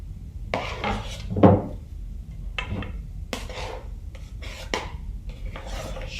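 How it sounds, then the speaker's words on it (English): Key lime pie filling scooped onto a pie crust, giving soft scraping and dull spoon taps against a dish, with one louder clatter early on, close and quiet with no talking. "let's go ahead and get our filling on our pie crust"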